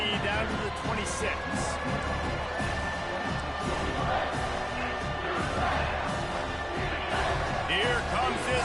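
Home crowd roaring steadily at a college football game on a third-down defensive stand, a dense continuous wall of noise with a play-by-play voice running over it.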